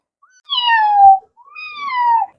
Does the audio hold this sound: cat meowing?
yes